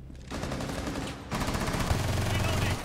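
Gunfire in Rainbow Six Siege, a dense stream of rapid shots running the whole way with a louder burst partway through, close and steady, with game noise underneath and no clear talk.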